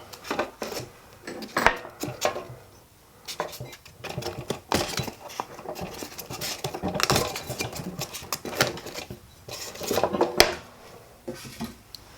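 A Clarkson auto lock chuck for a milling machine is handled, giving scattered metallic clinks and clatters of steel parts, with quiet gaps between bursts.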